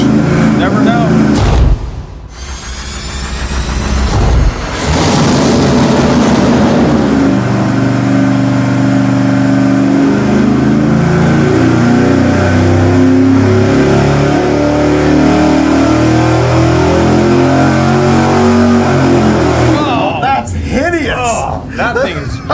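An engine on a dyno fitted with a plastic flex cooling fan, revving hard for a long sustained loud pull with rising pitch, after a short idle and blip at the start, then dropping off near the end.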